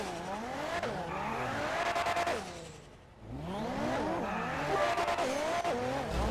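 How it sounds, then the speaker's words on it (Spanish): A turbocharged car in the video game GTA revs hard through repeated gear shifts, its engine note sweeping up and down, loud and close, with tire squeal and a brief dip before accelerating again. "Qué heavy suena ese turbo."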